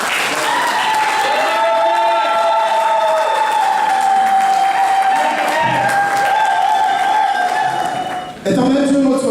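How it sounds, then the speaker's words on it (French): A church congregation claps and cheers to acclaim their king, a loud sustained wash of applause and crowd noise under a tonal hum, with speech over it near the end. "nous allons acclamer notre roi"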